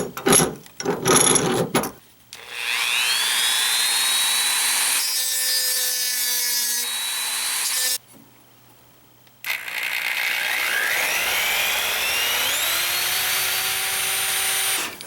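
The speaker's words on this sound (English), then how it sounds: "I'm going to be marking where to drill with this little burr." A small rotary burr grinds into a metal banjo tailpiece to mark drill points, a loud whining bursts that rise in pitch as it spins up, running for several seconds, stopping, then starting again.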